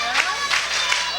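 A crowd at a live independent wrestling match roars and cheers in a loud, continuous swell, with a few rising surges of noise over a short span.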